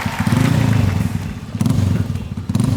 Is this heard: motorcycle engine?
yes